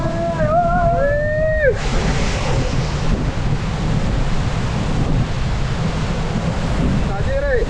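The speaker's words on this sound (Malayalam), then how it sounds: "വെള്ളച്ചാട്ടം കണ്ടോളൂ" Tiger Falls waterfall roars as a steady, broad rush close by, with gusting wind buffeting over it; a brief high whistle-like tone sounds at the start and near the end.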